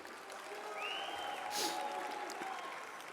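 Crowd at a university athletics stole ceremony applauding families and parents, a soft, distant, steady patter of clapping with a faint whistle-like tone running through it.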